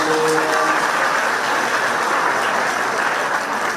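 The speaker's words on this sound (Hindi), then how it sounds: "ताली बजाकर धन्यवाद दे।" A large gathering of students at Votualevu College bursts into thick, sustained applause, loud and even throughout, with a brief tonal trace at the start.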